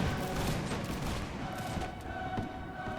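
Musket volley fire from massed infantry in the video game Mount & Blade Warband, a dense crackling fusillade of overlapping shots rolling on continuously and loudly throughout.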